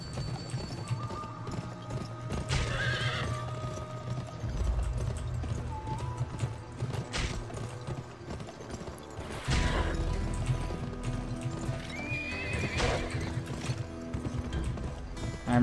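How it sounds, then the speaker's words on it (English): Horse galloping in the Western video game GUN during a race, with steady rhythmic hoofbeats throughout, loud neighs and whinnies at several points, and some mechanical clicking mixed in. "I'm riding my horse too hard."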